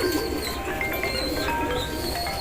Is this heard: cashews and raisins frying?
no